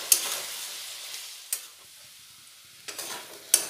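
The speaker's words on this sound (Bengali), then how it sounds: "আলুগুলি খুব ভালো করে ভেজে নেব" Potatoes frying in a pan for Bengali aloo posto, with occasional sharp scrapes and clanks of a spatula stirring them over a soft, steady sizzle.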